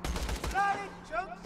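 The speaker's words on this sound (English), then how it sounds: "you're here someplace shooting at me" Quick bursts of enemy gunfire in Borderlands 2, a short rattling volley up front followed by brief shots, with a voice speaking over it.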